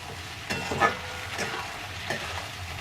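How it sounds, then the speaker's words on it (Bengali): Spinach and chopped tomato fry and sizzle steadily in a pan while being stirred for palong shaak torka, with a few soft scraping strokes at moderate, close range. "এবার আমি টমেটো কুচিটা দিয়ে দিলাম, আরেকবার নাড়াবো"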